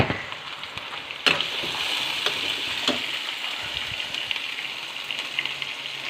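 Tomatoes sautéing in a pan for a green bell pepper dish give a steady, close sizzle with soft crackles, and a sharp clatter lands about a second in.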